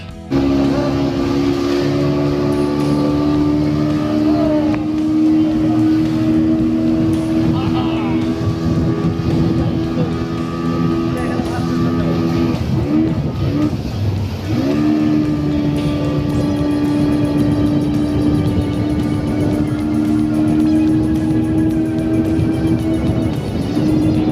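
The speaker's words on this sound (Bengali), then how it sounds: "আমরা এখন স্পিড বোটে উঠব" A speedboat runs loud and steady on a river in Safina Park, Godagari, Rajshahi, its engine drone and the rush of water continuing without a break while people talk over it.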